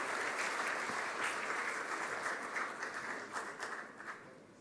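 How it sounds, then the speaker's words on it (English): Audience applause welcoming Maharashtra Chief Minister Devendra Fadnavis at a CII business summit in New Delhi: dense, steady clapping from a large crowd that holds strong, then thins and fades toward the end. "please welcome Fadnavis ji with a warm round of applause"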